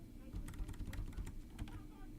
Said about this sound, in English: I'm typing Agent Underwood.